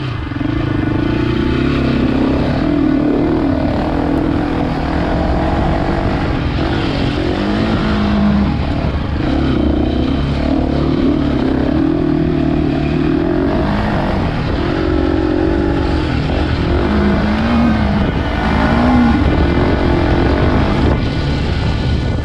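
A Husqvarna 701 rally motorcycle accelerates hard and steadily through a rally stage, its loud engine droning and rising and falling in pitch with repeated surges of throttle, close and continuous for the whole stretch.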